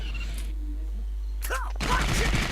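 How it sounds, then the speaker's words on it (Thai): Machine gun fire in the GetAmped2 video game, a short rapid burst of shots over steady game background sound, with a voice talking nearby. "ระวังปืนกล"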